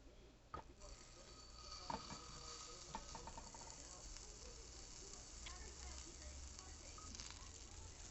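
Tiny smash burger of larb meat frying in a pan, a soft continuous sizzle with a few sharp clinks and scrapes near the start, close but fairly quiet, no talking.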